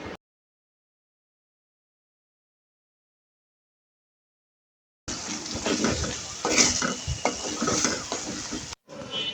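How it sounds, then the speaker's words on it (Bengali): Silence for about five seconds, then boiled ramen in chicken gravy is stirred in a pan: a close, busy sizzle with scraping and clattering of a utensil against the metal, ending abruptly. "এখন আমি দিয়ে দিব সিদ্ধ করা রামিনটা দিয়ে একটু নেড়ে চেড়ে ভালো করে আবারও বলক তুলে নিব"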